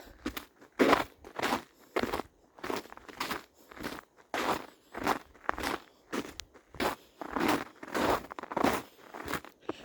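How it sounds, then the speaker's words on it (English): Footsteps crunch on ice-crusted snow during a winter walk in the woods, a steady rhythm of close, sharp crunches with no talking. "It's also very crunchy snow because of the layer of ice."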